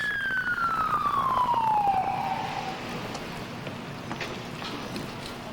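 A police car siren during the 1992 Los Angeles riots wails with a single falling tone that sweeps down and fades over a couple of seconds, leaving faint street noise behind.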